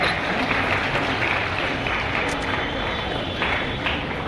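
Students clap continuously at a school Independence Day celebration, a dense wash of applause from a large group outdoors or in a hall, steady and fairly loud throughout.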